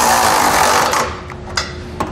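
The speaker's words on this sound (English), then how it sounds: "we'll take a 3/4 inch socket and wrench and we'll tighten the hardware down" A 3/4 inch socket and wrench tighten the trailer hitch bolts on a 2015 Jeep Compass, making a close, loud, buzzing ratchet run that gives way to a couple of faint metallic clicks.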